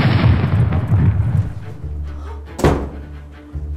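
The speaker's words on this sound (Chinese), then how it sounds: "那个咖啡机又爆炸了" An office coffee machine explodes in a loud, heavy blast that rumbles and fades, followed by a sharp thud and a smaller knock as it settles.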